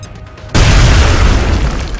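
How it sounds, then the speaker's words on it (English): A grenade blows through a wall in XCOM: Enemy Within, arriving as one sudden, loud, close boom after a quiet lead-in, followed by a long roaring, rumbling decay. "Throwing grenade!"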